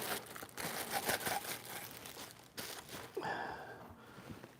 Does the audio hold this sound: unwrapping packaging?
yes